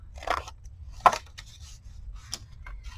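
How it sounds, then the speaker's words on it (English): Scissors cut a paper square at an angle in a few short, crisp snips spaced apart, close and fairly clear against a quiet background. "I'm going to cut this square out, but I'm going to cut it at an angle"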